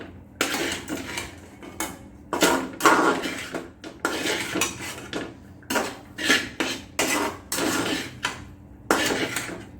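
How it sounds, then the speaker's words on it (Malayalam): Egg, onion and masala stirred together with chopped chapathi in a pan for egg kothu chapathi, with repeated close metal clanks and scrapes of a utensil against the pan in an uneven rhythm. "മുട്ട ഇട്ടതിന് ശേഷം ഇതെല്ലാം മസാലയെല്ലാം നല്ലതുപോലെ മിക്സ് ചെയ്ത് കൊടുക്കണം."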